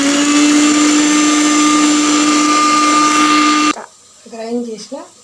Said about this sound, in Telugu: వెల్లుల్లి రెబ్బలు 3, జీలకర్ర 1/4 స్పూన్ వేసి గ్రైండ్ చేయాలి